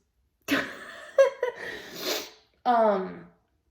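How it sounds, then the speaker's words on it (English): A sudden sneeze bursts out after some breathy vocal sounds, followed by a short voiced exhale; close and fairly loud. "Oh God, I'm gonna sneeze."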